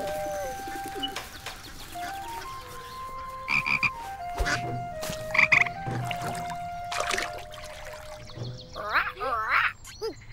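A cartoon tree frog croaks and chirps in short, bubbly bursts alongside cooing bird-like calls and a steady musical background, fairly close and clear.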